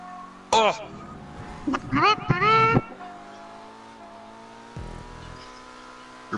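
A car engine in GTA V revs hard in a few loud, rising bursts, then settles to a lower steady drone. Players talk over the engine noise.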